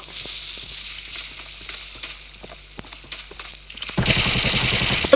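Gunfire in the shooter game Arena Breakout: a loud burst of rapid shots erupts near the end, after a stretch of quieter footsteps and faint clicks.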